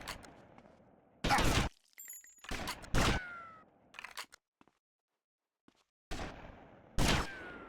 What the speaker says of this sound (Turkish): Onu böyle vuralım.